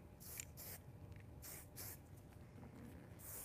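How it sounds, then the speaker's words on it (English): Short hisses of hair shine spray from an aerosol can during salon styling, several quick bursts in an irregular rhythm, faint and close. "I'm going to go ahead and grab my shine spray."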